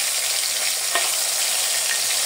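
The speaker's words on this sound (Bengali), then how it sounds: "মাছগুলো আমি ভালো করে ভেজে নিব।" Hilsa fish pieces fry in hot oil in a wok, giving a continuous loud, close crackling sizzle with a couple of brief spatula scrapes and no voices.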